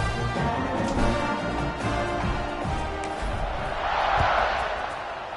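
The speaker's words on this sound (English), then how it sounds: "this crowd is buzzing after that last score" Crowd noise at a Penn State college football game fills the stadium with a steady loud roar of many voices, swelling slightly toward the end, with a commentator's voice mixed in.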